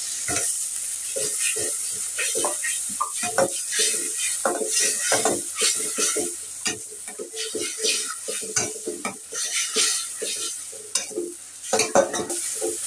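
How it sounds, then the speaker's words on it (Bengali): Spice paste with garam masala and cardamom paste is stirred and sautéed in a pan, a spatula scraping and clinking in quick, uneven strokes over a constant close sizzle, with no voices. "বন্ধুরা মশলাটা আমি ভালো করে কষিয়ে নিয়েছি"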